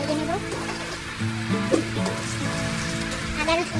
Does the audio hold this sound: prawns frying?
yes